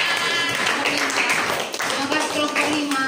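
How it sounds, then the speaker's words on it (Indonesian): Classroom applause for a student group presentation, a short burst of many hands clapping together in a room, loud and close, with voices mixed in. "Berikan tepuk tangan buat kelompok 3."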